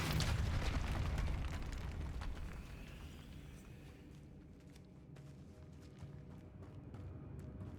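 A Depulso spell cast in the video game Hogwarts Legacy, a loud whooshing burst at the start that fades into a lingering rumble, followed by faint game ambience.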